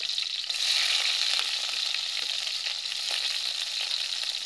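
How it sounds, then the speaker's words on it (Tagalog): Garlic and onion sauté in a hot pan with a steady, bright sizzle. Faint scrapes and taps of stirring come through now and then, and no one speaks. "Gisa muna tayo ng mga panakot."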